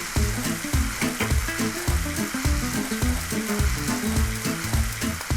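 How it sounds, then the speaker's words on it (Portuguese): Shrimp browning in a hot pan for a Brazilian camarão na moranga, giving a steady, loud close-up sizzle with faint stirring and no talking. "a gente vai acrescentar o camarão, deixar dourar um pouquinho antes que a gente entre com o leite de coco"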